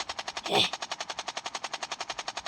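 Rapid automatic gunfire in an animated zombie apocalypse battle, a steady stream of evenly spaced shots running throughout, loud and close, with a brief shouted voice near the start.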